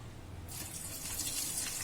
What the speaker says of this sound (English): So adding more water, that is 10 parts of water is required.